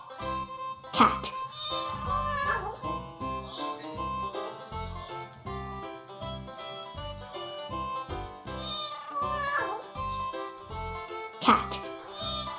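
A domestic cat meows several times in a farm-animal setting, with short pitched cries standing out against a busy, continuous background bed of other sound.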